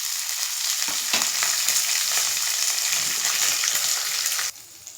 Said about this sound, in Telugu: అలాగే కరివేపాకు, పచ్చిమిర్చి కూడా వేసేస్తున్నాను.